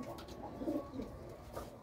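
Desi pigeons on a rooftop coo in soft, rolling bursts that rise and fall at moderate distance, several birds overlapping in a steady flock murmur without any voices.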